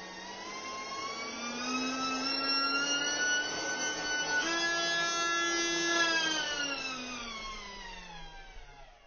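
A small glow- or gas-powered model airplane engine runs steadily and nearby, its high buzzing whine rising slightly and dipping back in pitch as the throttle shifts, with no voices over it.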